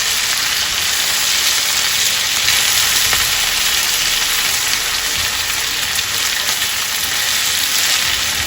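Lamb loin frying in a pan with garlic, parsley and butter makes a loud, dense, continuous sizzle and crackle close by, with faint stirring clicks and no voices.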